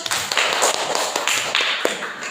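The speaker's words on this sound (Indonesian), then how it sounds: "Nah, sekarang tepuk tangan buat temannya." Students in a classroom clapping for classmates, a quick uneven patter of hand claps close by with a few sharper slaps.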